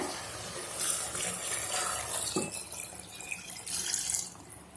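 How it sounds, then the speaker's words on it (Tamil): Water pours steadily into a pot of rice, a soft continuous splashing and trickling that runs throughout, close and fairly quiet, with no voices. "அதுக்கு வந்து 2 சொம்பு தண்ணி ஊற்றுறேன்."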